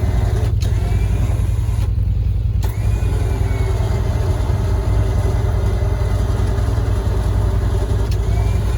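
A vehicle engine at the homestead hauls a heavy load with the brake on, a steady loud low drone that holds without pause, with a few faint clicks and creaks over the top.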